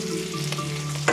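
Steady, loud sizzle of adobo ingredients sautéing in a pan after bay leaves go in, continuous frying hiss close up with a brief scrape near the end.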